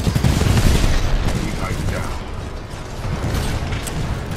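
Rapid gunfire from a weapon in Titanfall 2, a dense continuous burst of loud shots filling the clip with mechanical clatter throughout.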